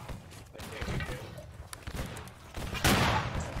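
Musket volleys in a Battle Cry of Freedom Gettysburg event battle, a dense crackle of overlapping shots both near and distant, with a louder burst of fire near the end.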